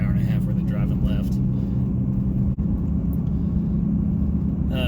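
Steady low rumble of a car engine and tyre road noise during a long highway drive, continuous and fairly loud, with a brief dip midway and faint voices now and then over the drone.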